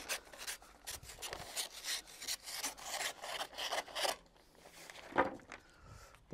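Repeated scraping, rasping strokes of a blade through stiff baking paper, close and fairly quiet, with a few sharper snips near the end.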